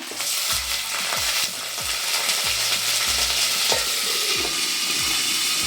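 Mustard seeds, cumin, curry leaves, coriander and green chillies sizzle and crackle in hot oil, a steady close hiss broken by repeated sharp pops and stirring scrapes.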